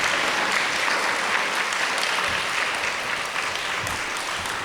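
Steady, dense audience applause at a school community event, loud and continuous throughout, with no voice over it.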